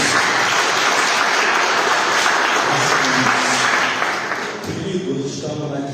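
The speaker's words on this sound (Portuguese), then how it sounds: "Você consegue aplaudir o Senhor?" A church congregation applauds, dense, loud clapping that fills the room steadily before thinning out near the end.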